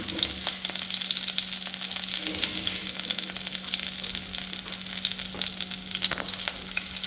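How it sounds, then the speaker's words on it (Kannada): Garlic and masala fry in a pan for a white sauce chicken dish, a constant crackling sizzle with scattered pops and occasional stirring scrapes, close and steady over a low hum, with no talking. "ಚೆಂದ ಫ್ರೈ ಆಗ್ತಿದೆ"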